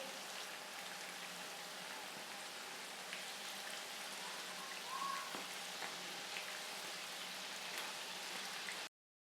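Chocolate donuts frying in hot oil, a soft continuous sizzle and crackle with scattered tiny pops, steady and fairly quiet throughout, no talking.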